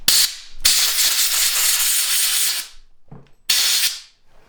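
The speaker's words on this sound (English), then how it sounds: "Need to blow the dust out of here" Compressed air blasting dust out of the spark plug hole of a dirt bike engine that previously caught fire: two long loud hissing bursts, the first about two seconds, with a short gap and a quieter rattle between them.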